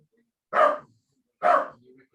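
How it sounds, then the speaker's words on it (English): A dog barks twice downstairs, two short separate barks about a second apart, muffled and moderately distant against an otherwise quiet room. "My dog's barking downstairs at something."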